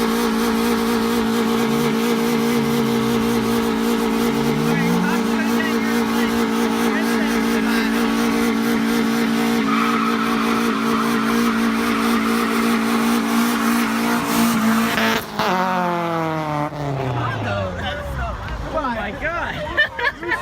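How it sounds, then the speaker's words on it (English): A car doing a burnout roars at high, sustained revs with tire squeal, then the engine pitch drops near the end, while a crowd chatters in the background. "love how you need like 8 guys to do a burnout."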